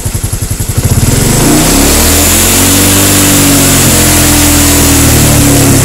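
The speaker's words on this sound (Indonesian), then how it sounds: "Kita gas saja." A Honda motorcycle engine idles with a steady low pulse, then is throttled up and held at a high, loud rev with a rising drone, close and continuous with no talk.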